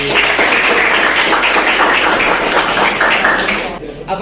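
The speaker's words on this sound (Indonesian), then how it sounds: "Beri tepuk tangan." A classroom full of people claps together, the applause dense and close, fading near the end, with voices mixed in.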